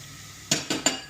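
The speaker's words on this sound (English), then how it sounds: "A decent knob of butter into the frying pan, and then all the lovely leeks are now chopped. We'll drop all of those in" Three quick clattering knocks, like utensil on pan, as chopped leeks go into butter in a frying pan, sharp and close over a faint background hiss.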